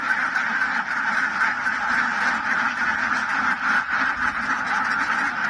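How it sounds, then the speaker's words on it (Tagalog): A large flock of domestic ducks quacks and chatters without a break, a dense and fairly loud mass of overlapping calls from close by, with no talking. "Yan ang mga itik ni Abay."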